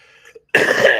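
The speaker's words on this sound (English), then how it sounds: "Guys, hold on, I got to cough a minute." A single harsh, loud cough bursts out close to the microphone after a brief soft breath.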